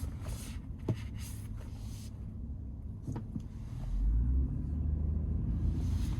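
Steady low road rumble inside the cabin of a 2022 Honda Passport with a ZF 9-speed transmission, quiet and smooth, a few soft clicks on top and a slight swell in the low drone partway through.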